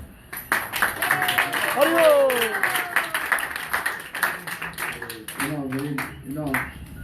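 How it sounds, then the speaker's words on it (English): A small audience at a spiritual lecture claps in scattered, uneven bursts while voices and speech run over and through the clapping. "So clap."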